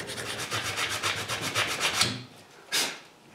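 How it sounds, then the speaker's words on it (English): Sandpaper rubbing glue off a wooden chair with fast, rhythmic back-and-forth strokes for about two seconds. A brief pause follows, then one last short scrape, close up and alone. "I also sand the glue here."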